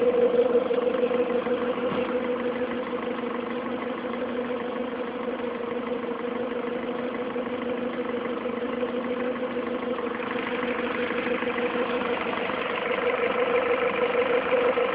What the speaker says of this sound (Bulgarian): Колата работи чудесно.